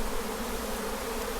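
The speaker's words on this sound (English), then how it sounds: "Enough bees here to kill a whole shitload of horses." A swarm of killer bees in a bush in Sierra Vista gives off a dense, continuous buzzing drone, loud and close and steady throughout, with no talking.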